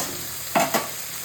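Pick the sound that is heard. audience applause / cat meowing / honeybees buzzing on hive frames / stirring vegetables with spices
stirring vegetables with spices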